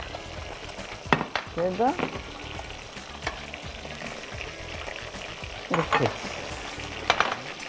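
Chicken rubbed with grated onion and salt sizzles steadily in a frying pan, with occasional stirring scrapes and clinks on top; someone speaks briefly over the frying.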